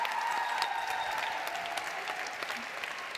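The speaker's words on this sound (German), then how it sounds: "Noch einen großen Applaus für euch." An audience at a song contest finale applauds in a sustained, even wash of clapping from a crowd, moderately loud, with faint tones of music lingering underneath.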